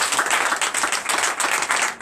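A church congregation at a Sunday service in Comè, Benin, breaks into dense, loud applause, many hands clapping at once in a continuous burst.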